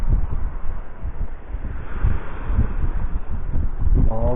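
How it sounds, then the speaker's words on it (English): Strong wind buffeting a microphone on a Suffolk fishing beach at Corton, a continuous low rumbling roar with gusty surges and no speech. "that wind's really picking up behind me as well"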